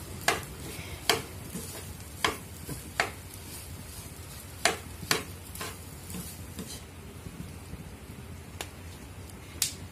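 Ingredients for dry fish fried rice being stirred and mixed in a frying pan with dark soy sauce and oyster sauce, giving sharp scraping clicks every second or so over a soft, steady background sizzle.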